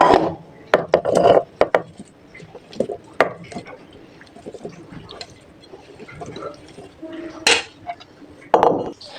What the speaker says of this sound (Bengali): এবার সবগুলো টমেটো কেটে নিচ্ছি।